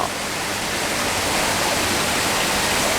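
Constant close roar of a waterfall in a small natural garden at an Amazon coffee shop, a dense broadband splashing rush that holds level throughout, nobody speaking.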